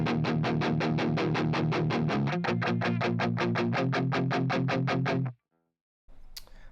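Distorted electric guitar chugs a steady rhythm chord part from a song, dense even strums with a chord change midway, stopping abruptly before a brief faint noise.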